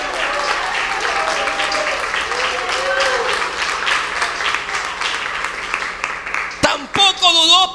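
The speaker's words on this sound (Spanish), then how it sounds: "Dele palmas fuertes al Señor" Church congregation clapping loudly for the Lord during a sermon: sustained, dense applause with some rhythmic pulsing, then a few scattered voices and noises near the end.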